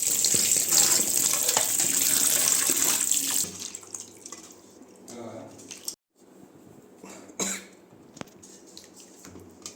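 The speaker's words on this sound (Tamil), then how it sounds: "முதல்ல இதை நல்லா வாஷ் பண்ணி எடுத்துக்கலாம்." Chicken leg pieces sprinkled with turmeric powder are rinsed under a running kitchen tap, with loud steady water flow at first, then quieter splashing and squishing as the pieces are handled.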